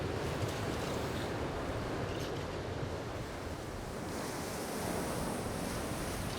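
Sea waves break and wash against the shore in a steady, continuous roar, with wind buffeting the microphone and no voices.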